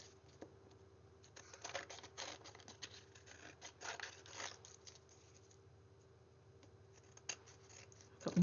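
Scissors trim excess card paper with a few soft, close snips and crisp cutting rustles in short clusters. Quiet pauses fall between the cuts.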